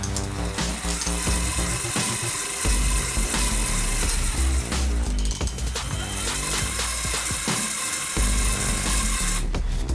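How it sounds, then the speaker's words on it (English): A LEGO worm gear elevator driven by a single large motor through gears and a small bevel gear flywheel: a loud, continuous mechanical whir and grinding buzz, close up, with a brief dip in pitch and level twice. "Those are all driven by a single large motor. And all together, that gives our lift."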